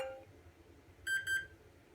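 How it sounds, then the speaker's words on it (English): An electronic speed controller gives two short, high beeps in quick succession during throttle calibration, preceded by a fainter tone, over quiet background hum. "2 beeps."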